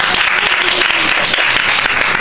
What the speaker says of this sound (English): You ought to clap your hands right here.